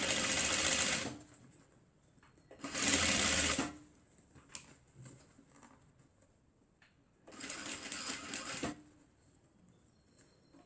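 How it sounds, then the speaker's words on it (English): A sewing machine stitching a fabric face mask in three bursts of rapid, whirring mechanical running, each a second or so long, with quiet handling of fabric in the pauses, close and clear. "we're going to start stitching from here."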